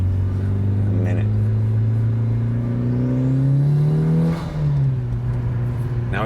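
A 2-liter Evo 8 engine idles steadily through a Buschur exhaust, a loud, continuous low drone with a faint rise in pitch partway through, while people talk over it.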